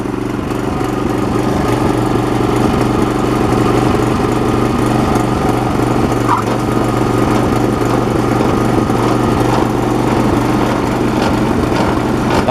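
A Toro Power Max 724 OE snowblower runs steadily with its blade spinning, a loud, close, continuous engine drone with an even mechanical hum throughout and no pauses.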